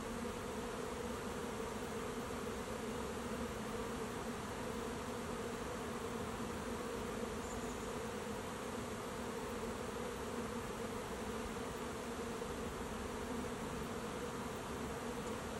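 A honey bee swarm moving into a swarm trap makes a dense, steady buzzing drone. It holds at an even, moderately loud level throughout with no voices.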